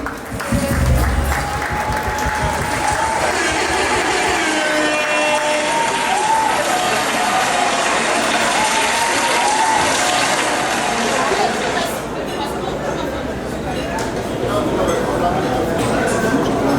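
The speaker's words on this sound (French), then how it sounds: "on peut applaudir pour eux, s'il vous plaît" A gala audience claps steadily and loudly for the whole stretch, a dense wash of applause from a large room with scattered cheers, easing off briefly near the end.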